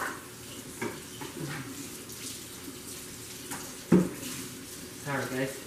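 Water runs from a kitchen tap in a continuous hiss while a dish is rinsed during vegan black bean burger preparation, with a few clinks and a splash near the end and a person talking over it.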